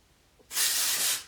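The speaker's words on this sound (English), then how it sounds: "just take some texture spray" Texture spray mists onto hair in one continuous burst of about a second, a bright close hiss that starts abruptly and fades at the end.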